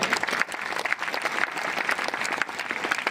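A crowd at a Republic Day gathering in a village claps loudly and continuously, a dense, steady patter of many hands throughout.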